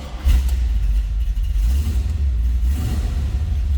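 A 1979 Chevrolet Camaro Z28 with its numbers-matching 350 engine runs at idle nearby, a loud steady low rumble with a small rev bump near the start and an uneven throb.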